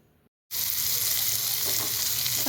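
Coconut mixture sautéing in a pan on a gas stove, a loud, steady hiss of sizzling that bursts in abruptly after a short quiet moment and continues evenly to the end.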